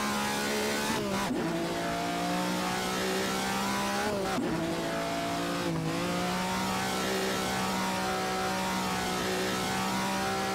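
A 1962 Ferrari 250 GTO engine drones loudly and steadily in an Assetto Corsa race car, dipping sharply during a few brief gear changes or throttle lifts while the tires slide through a drift.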